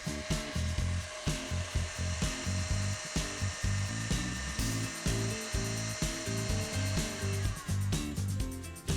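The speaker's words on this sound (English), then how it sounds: "over to the mixer to start it running on high speed" An electric stand mixer whips macaron meringue on high speed, a loud, close motor whir with a steady churning, rhythmic pulse that repeats throughout.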